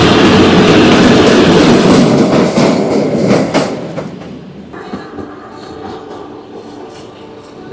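The Kalka-Shimla narrow-gauge toy train rumbles along its mountain rails with a heavy, close roar and clattering wheels, which then fades to a quieter rolling hum with faint squeaks.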